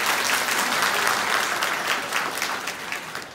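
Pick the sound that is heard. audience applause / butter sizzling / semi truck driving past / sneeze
audience applause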